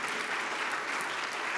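A church congregation at a Baptist evening service claps together in steady, dense applause, fairly close and continuous throughout the short stretch, with no talk over it.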